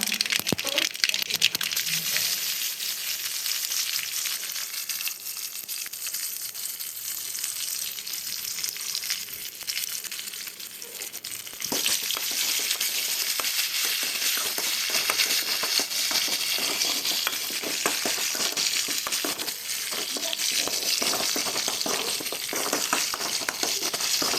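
Continuous crackling sizzle of mustard seeds and grated coconut frying in hot oil, intensifying partway through as the heat is raised, with occasional stirring scrapes close by.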